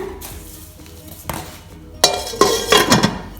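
A lid goes onto a heavy, weighty steel pan, giving a few close, loud clanks and metallic rattles after a quieter stretch.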